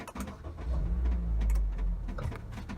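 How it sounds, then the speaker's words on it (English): A Honda HR-V E started with the push start-stop button: a brief starter crank catches into a low idle rumble that settles and holds steady. "put my foot on the brake and hit the engine start-stop button"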